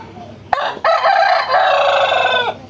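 A rooster crows loudly and close by in one long, drawn-out call after a brief clucking note, with nothing else competing.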